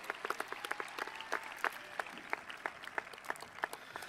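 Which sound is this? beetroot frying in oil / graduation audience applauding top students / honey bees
graduation audience applauding top students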